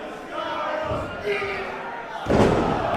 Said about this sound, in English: Beautiful exploder suplex from Dallas Kyle.